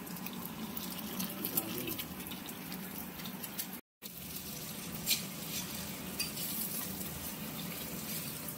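Eggs sizzle gently in a pan for egg bhujia, a soft continuous frying hiss with occasional stirring clinks, faint and steady apart from a short break midway.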